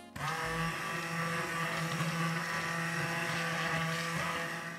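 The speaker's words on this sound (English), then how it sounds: "So now we are going to blend away." Stick blender whirring steadily through a batch of hot process soap, a loud continuous motor drone that kicks in sharply and holds even for several seconds before easing slightly at the end.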